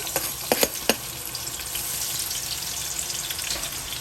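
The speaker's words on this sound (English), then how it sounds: "I'm gonna go in with some onion" Onion frying in oil in a karahi for lamb biryani, a dense, steady sizzle with a few sharp clatters early on, then a constant loud hiss.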